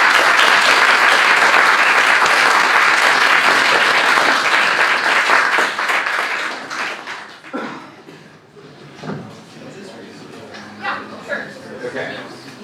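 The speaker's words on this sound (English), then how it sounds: "Can we get another round of applause?" Loud audience applause after a reparations-for-slavery debate at the Berkeley Forum fills the hall for several seconds, then thins into scattered claps, chuckles and murmuring voices.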